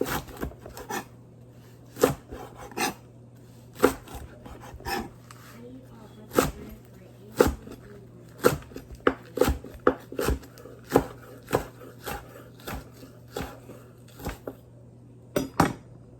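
Sharp snipping and crunching sounds repeat irregularly, with quiet rustling between them and a low hum underneath.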